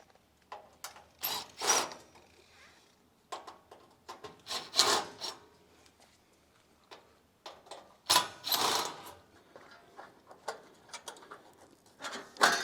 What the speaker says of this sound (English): So I'm just removing those Phillips screws that are holding it.